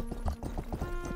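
Horse hooves clip-clop in the video game Rustler, a quick steady trotting rhythm over a constant droning music bed, with no voices.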